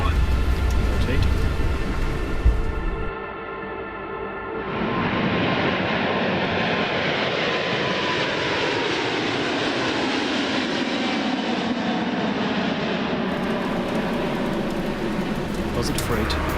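A Lufthansa Cargo Boeing 777 departing Seattle, its jet engines roaring in a loud, steady broadband rush heard from the cockpit during the climb after takeoff, with no break in the noise.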